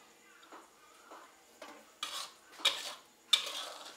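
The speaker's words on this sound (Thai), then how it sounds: "เดี๋ยวเราจะตักใส่ถ้วยนะคะ" Soft metallic scrapes and clinks of a ladle against a pot and bowl, a few quiet scoops spaced out, close and gentle.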